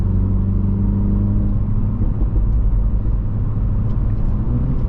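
Manual MK7 GTI or F56 Mini JCW hot hatch engine on a B-road, a loud, steady, close rumbling growl as the revs rise through a rev-matched downshift, with no talk over it.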